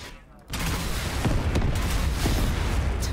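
Rapid bursts of gunfire in a Fortnite match, loud and dense after a brief quiet start, with a voice speaking briefly over the shots.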